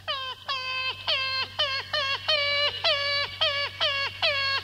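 A performer's voice imitates a puppy shivering and whimpering from the cold: about ten short, high, falling yelps in a steady, evenly spaced series, close and clear with no talk.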